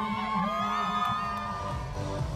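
Crowd at the Auckland Pride Parade cheering and shouting, a steady dense roar of many voices with children's yells and whoops mixed in, close and continuous throughout.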